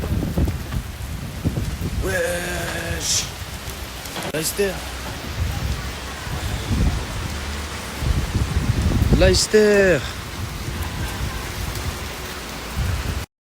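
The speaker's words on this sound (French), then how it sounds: "il pleut pas faux" Heavy rain pours steadily in a city, a dense continuous hiss throughout, with people talking over it at times.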